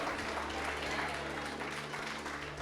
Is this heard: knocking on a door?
no